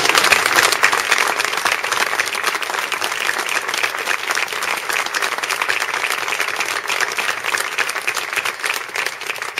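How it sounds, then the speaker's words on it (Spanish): Audience applause fills a guitar festival's closing and award ceremony in Coria, steady dense clapping that holds loud and even for the whole stretch without pause. "un aplauso para Javier."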